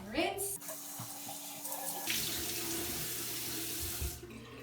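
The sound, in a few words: running tap water, rinsing face at sink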